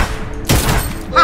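A video game gunshot lands a headshot, one sharp booming crack in the middle of the clip with a short echo and a brief tail, followed by a small burst of sound at the end.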